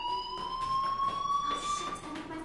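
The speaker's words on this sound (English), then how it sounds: "do you hear that fire alarm?" In a video game, a fire alarm sounds as a steady, piercing electronic tone under a low background hum, continuous across the moment with no speech over it.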